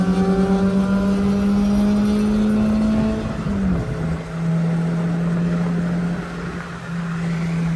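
A Toyota 3SGE-engined car racing a Honda Civic X on a street, one steady droning engine note held loud and close, dipping briefly midway before settling back into a sustained high-speed roar.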